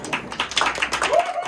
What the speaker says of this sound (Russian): заслуживает долгих и продолжительных оваций